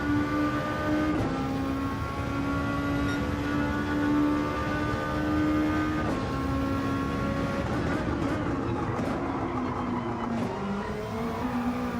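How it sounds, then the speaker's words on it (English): Race car engine in the video game Gran Turismo 7 at Sainte Croix: a sustained high-pitched engine drone holding a steady rev, with gear shifts audible as brief pitch drops and climbs, loud and continuous throughout. "Rev it up."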